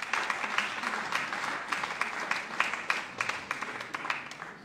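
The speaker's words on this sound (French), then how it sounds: "Vous pouvez vous applaudir" Audience applauding after a choir concert at a music festival in Saint-Chinian, steady dense clapping from a crowd with a few sharper claps rising out of it, continuous and moderately loud throughout.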